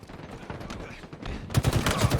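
Bursts of rapid gunfire crackle in quick succession, growing louder partway through, with distant shots scattered underneath.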